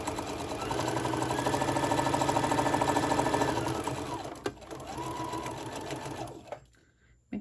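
Sewing machine stitching scrap cotton with polyester thread at a 2.5 stitch length, a steady close whirring hum with rapid needle chatter for about four seconds, then a shorter run before stopping.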